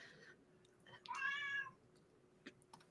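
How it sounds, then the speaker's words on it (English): An old female cat meows once, a drawn-out, wavering cry in a quiet room, with faint soft noises before and after it. "Old cat. That's what she sounds like a lot of the time now."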